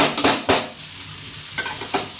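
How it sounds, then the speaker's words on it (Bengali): A spatula working mashed boiled potato into fried onion, garlic and ginger in a pan, giving a few distinct scraping strokes in bursts over a low continuous sizzle, close and fairly loud. "ভাজা পেঁয়াজ রসুন আদার সাথে ভালোভাবে মিক্স করে নেওয়া হচ্ছে।"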